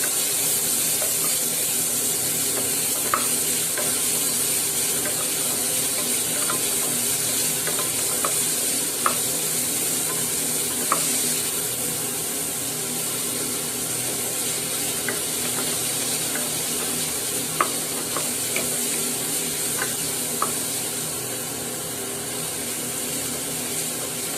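Vegetables being softened for a South Indian soup sauté in a pan with a steady, even sizzle and sporadic sharp clicks of a utensil stirring against the pan, close and continuous, with no voices.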